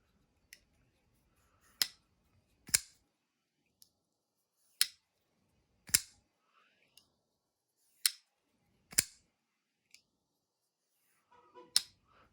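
An Arcane Design Necronaut knife cutting, heard as sharp, isolated snicks spaced about a second apart, crisp and close in a quiet room.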